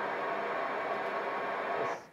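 A logarithmic sine sweep from loudspeaker measurement software plays as a steady, continuous broadband tone that holds for about two seconds and then cuts off quickly, with no voices.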